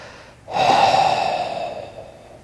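A single sharp, audible inhalation taken during an abdominal core workout exercise, drawn in quickly and close, then tapering off gradually with no talking.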